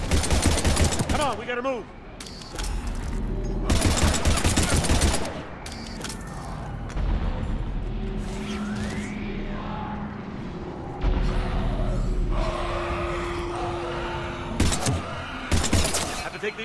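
Heavy gunfire in Mass Effect 3, bursts of rapid shots and fusillades crashing in repeated loud volleys with shattering impacts, while a man calls out over the fighting.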